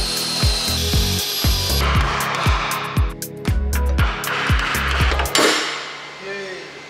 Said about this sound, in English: I'll take the steering rack mount off as well.